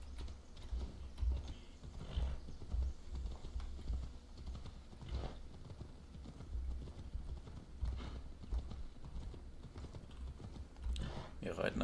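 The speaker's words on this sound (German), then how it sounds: "Wir reiten einfach mal querfeld ein." Horse hooves clip-clop steadily at a riding pace across open ground in Assassin's Creed Odyssey, with a short whinny, amid continuous game ambience and a speaking voice.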